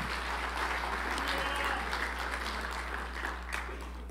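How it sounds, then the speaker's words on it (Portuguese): A church congregation claps during a sermon, a steady wash of applause with a low hum underneath, fairly loud and continuous throughout. "Aplausos ao Senhor."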